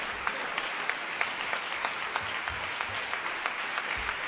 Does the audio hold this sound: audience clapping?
yes